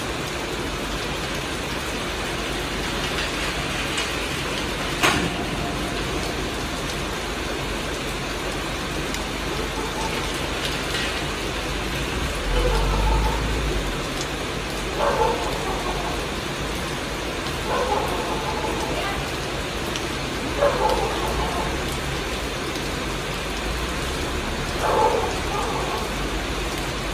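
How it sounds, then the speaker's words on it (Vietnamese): Rain falls steadily outdoors as a constant broadband hiss, with faint voices and a few brief, soft knocks or clatters surfacing now and then under the downpour. "Trời thì đang mưa như chút nước ạ"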